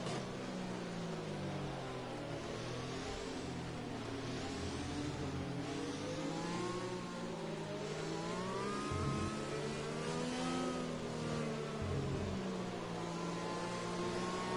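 In a racing game, F1 cars run a pack at reduced pace behind a safety car at Spain, overlapping engine notes droning and rising and falling in pitch, continuous and moderately close.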